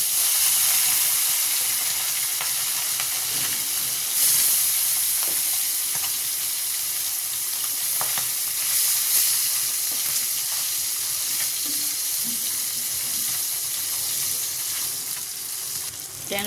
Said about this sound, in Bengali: ট্যাংরা মাছগুলো হালকা করে ভেজে নিয়েছি।